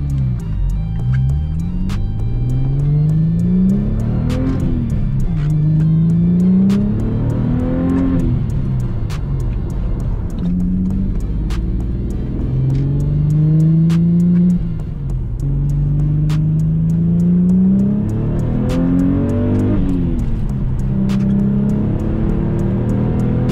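An Audi B5 S4 engine with an upgraded front end runs steadily and loudly up close, its tone rising and falling in repeated revs over a constant rumble, with no talking.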